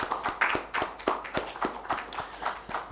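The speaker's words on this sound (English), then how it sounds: "I think we can give another round of applause." Clapping in a launch-event audience, fairly sparse with distinct individual claps falling in a loose, quick rhythm, close and moderately loud, no talk over it.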